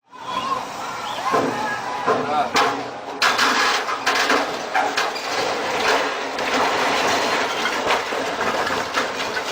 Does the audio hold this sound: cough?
no